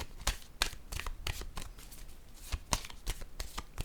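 Cards are shuffled for a card reading in quiet, rapid bursts of papery flicks and riffles, heard up close and alone.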